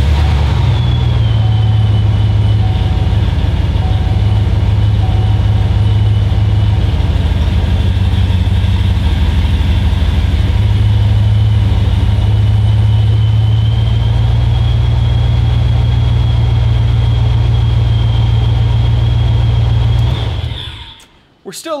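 A Chevrolet Gen V V8 idles steadily and loudly up close, its low rumble holding even throughout, with a faint whine above, before cutting off at the end; no start-up is evident.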